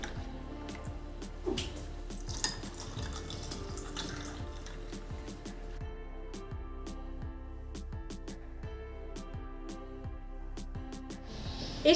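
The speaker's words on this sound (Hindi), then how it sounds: "ठंडा पानी ऐड कर देते हैं।" Cold water poured into a glass of Bihari sattu drink with ice cubes, a steady splashing trickle with small clinks and drips running for several seconds, close and fairly quiet, with no talking.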